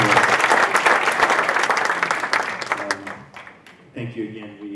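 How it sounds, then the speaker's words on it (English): An audience at a debate on God as human invention gives a warm round of applause, dense clapping that gradually thins, then a voice begins speaking as it dies away. "Could you please give them a round of applause?"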